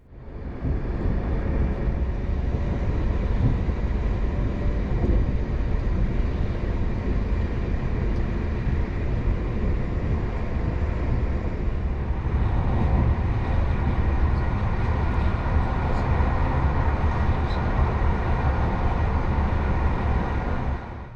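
A PKP InterCity passenger train running at full speed through Poland, heard from on board as a loud, continuous rumble of wheels and carriage noise with steady rattling throughout.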